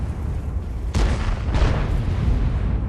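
Tank cannon fire in World of Tanks on the Mauschen Mines map: two heavy booms about half a second apart over a constant low rumble.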